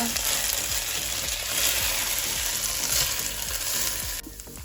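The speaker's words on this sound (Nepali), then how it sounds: "मैले यसलाई मिडियम हिटमा भुट्दैछु" Goat meat for pilau frying on medium heat, with a steady close sizzle throughout and repeated soft scrapes as it is stirred in the pan.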